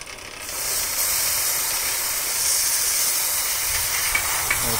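Quick Safe chain cleaner sprays onto a motorcycle chain as a loud, continuous aerosol hiss that starts after a brief lead-in and runs steadily to the end, with no talk.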